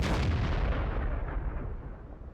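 A single heavy artillery blast in the tank battle game World of Tanks opens with a loud, deep boom that rolls and fades over about two seconds, with no voices.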